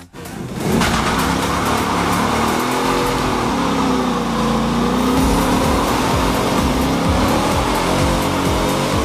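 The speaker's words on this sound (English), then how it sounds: "Now, this just makes big smoky burnouts that much easier." A 2015 Ford Mustang GT with line lock does a smoky burnout: a loud, sustained engine roar with shifting pitch and tire noise runs unbroken for about nine seconds, with no talking.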